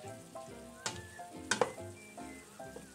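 Spoon stirring a lentil stew simmering in a single pot, soft scraping and bubbling with light sizzle and a few sharper clinks, quiet and close.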